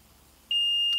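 A Housegard Origo wireless smoke alarm sounds a single sustained, piercing high-pitched beep, close and loud, starting abruptly after a moment of near silence and holding steady until it cuts off.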